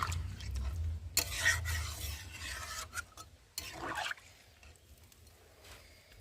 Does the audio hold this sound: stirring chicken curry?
yes